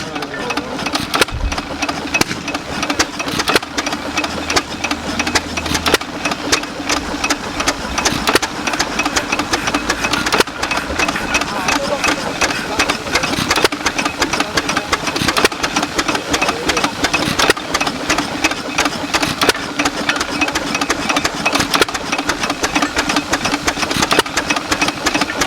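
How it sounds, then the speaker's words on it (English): Vintage vehicle engine running at a heritage transport show, a loud, steady mechanical chugging and rattling idle that continues throughout, close up with outdoor background noise. "you're starting your engine"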